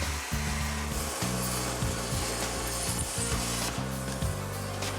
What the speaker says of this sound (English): Then it's time to cut the tray itself.